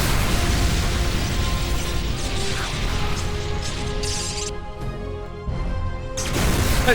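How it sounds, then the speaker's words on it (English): A detonated explosion in the video game Warhammer 40,000: Kill Team bursts loudly with crashing, smashing debris and mechanical clatter, rumbling through several seconds before a brief dip and another harsh surge. "Those ones are running into the explosion."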